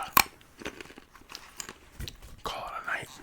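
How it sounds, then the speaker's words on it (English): Wasabi almonds crunched and chewed close to the mic in a quiet room, a sharp bite near the start followed by softer irregular chewing, with a brief whisper-like rustle toward the end. "Crunch down on a few more of these Wasabi Almonds before I head to bed."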